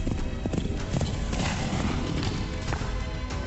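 Steady clip-clop of horse hooves trotting on a hard surface in Kentucky, continuous and fairly close, with a busy background mix.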